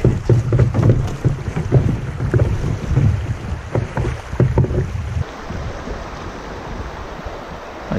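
A motor canoe being poled along the Yukon River, with rhythmic knocks and splashes over steady rushing water and wind noise, fading to a calmer wash near the end.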